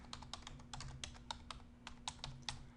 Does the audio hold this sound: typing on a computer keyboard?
yes